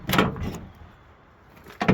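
A heavy door on an original Chevy square body truck is handled twice, with a latching clunk at the start and another solid slam near the end, loud and close, with quiet in between.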